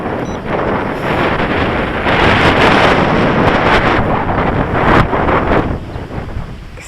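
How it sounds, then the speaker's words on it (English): Strong wind buffeting outdoors around a small Eachine H8 Mini quadcopter in flight, a loud continuous roar with gusty swells and microphone rumble throughout, no talking. "it's extremely windy"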